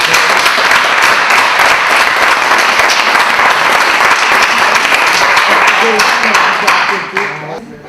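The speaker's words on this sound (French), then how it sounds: "Je pense que ça mérite une très, très bonne main d'applaudissements pour l'ensemble des capsules réalisées." Loud, dense audience applause fills a room at an evening gathering for youth project video capsules, steady and sustained before tapering off near the end.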